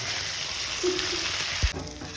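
Dense, loud sizzling of a spice tempering frying in hot oil in a pan fills the clip, with a brief knock of a utensil near the end.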